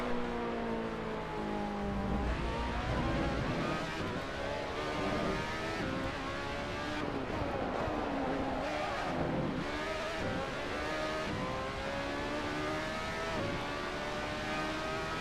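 Race car engine running flat out in fourth gear in the Assetto Corsa racing game, a steady high-pitched drone with shifting harmonics, loud and continuous throughout.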